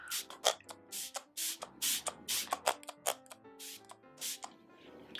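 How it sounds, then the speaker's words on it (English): Several short, crisp bursts of Fix Plus setting spray misting onto a face, close up, with quick pauses between pumps. "this is a Fix Plus, and we're just going to spray our face."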